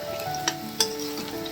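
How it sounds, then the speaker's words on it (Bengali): Cauliflower pieces frying in hot oil in a wok, a close, steady sizzle with a couple of sharp clinks of a utensil stirring against the pan. "এবার আরো খানিকক্ষণ ভেজে কপিটা তুলে নেব।"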